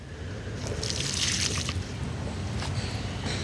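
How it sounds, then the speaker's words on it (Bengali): Newly planted trees in a pocket forest being watered in the morning, a continuous close splashing and trickling stream of water with a brighter gush near the start. "সকালবেলা জল দিতে এসছি"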